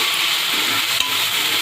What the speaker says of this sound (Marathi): आता ह्याच्यात आपण भिजवलेली मूग डाळ घालूया, हिला पण छान परतून घेऊ।